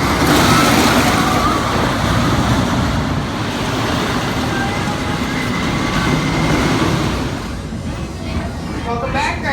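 Renegade, a roller coaster at Valleyfair amusement park, gives off a loud, steady rumble of a train rolling along track, with broadband roar and faint squeals, easing slightly toward the end.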